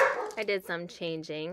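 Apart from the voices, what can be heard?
dogs barking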